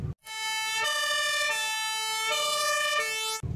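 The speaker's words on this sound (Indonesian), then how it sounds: "ini adalah truk damkar" A toy fire truck's electronic siren wails loud and close in a steady, rising and falling tone, sounding alone from start to end with no talking over it.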